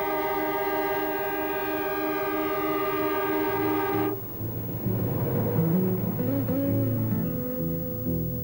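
The Overland passenger train's horn blasts loudly for about four seconds with a steady chord, then cuts off, leaving the rumbling clatter of the passing train.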